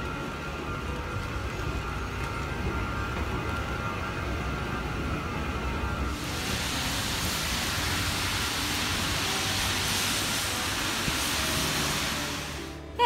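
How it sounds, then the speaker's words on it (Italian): Steady rain falls at night on a Tokyo street outside a metro exit, a dense even hiss that grows brighter and louder about halfway through, with no speech. "E sento già che sta piovendo."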